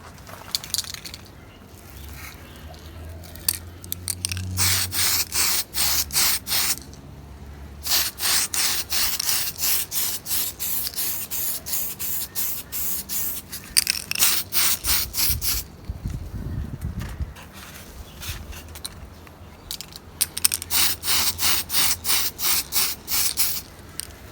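Sanding flash from the edge of a plastic 1/25 Revell 1969 Camaro model kit part, bursts of quick rhythmic back-and-forth scratching strokes with brief pauses between, close up and steady.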